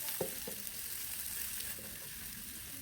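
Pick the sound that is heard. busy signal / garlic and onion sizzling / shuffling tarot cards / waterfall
garlic and onion sizzling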